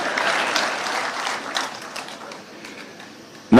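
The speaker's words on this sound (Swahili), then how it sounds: "Makofi kwangu basi." Applause from the audience at a pastoralist leadership summit in Wajir comes as a dense burst of clapping that fades over a few seconds before a voice cuts in at the end.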